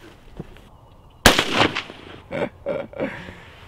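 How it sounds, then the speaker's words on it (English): A gun fitted with a Feyachi red dot sight fires one sharp, loud shot, followed by several rough, echoing bursts that fade over the next two seconds. "Let's take some shots."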